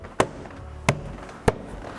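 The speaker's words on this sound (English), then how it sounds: "with the palm of your hand, give it a nice healthy thump" Three sharp, evenly spaced thumps as a palm strikes a BMW 4 Series door card to seat it back in place, each a short close impact with quiet between.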